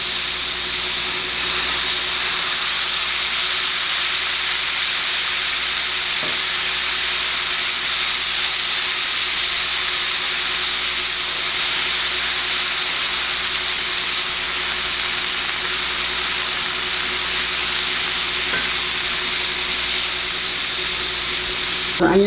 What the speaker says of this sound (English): It's going to soak into the onions as they're cooking.